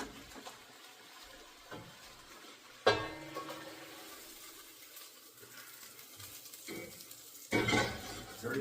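Six onions and a leek sizzle softly in a pan, with sharp scraping stirs breaking in twice over the steady low frying hiss.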